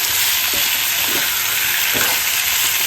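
Fish stirred in hot frying oil produces a loud, dense, continuous sizzle with a few soft utensil movements underneath, close up and with no voices.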